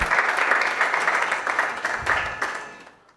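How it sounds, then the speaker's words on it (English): Audience applause at a panel discussion on Ghana's macroeconomic environment, sustained steady clapping from a crowd that fades out near the end. "Please, a big round of applause for Mr. Pioning for me."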